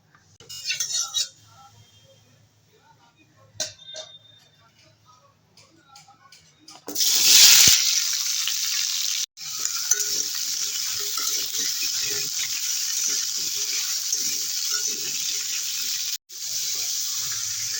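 Oil poured into a hot wok hits with a loud sudden sizzle that settles into a steady, even frying hiss, after quieter kitchen clatter and soft speech.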